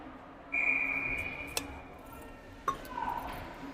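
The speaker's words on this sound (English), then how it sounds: "We're going to get a whistle." A referee's whistle at a 14U girls' youth ice hockey game: one long, clear, sustained blast, followed by sharp clicks and knocks and a fainter second tone amid rink noise.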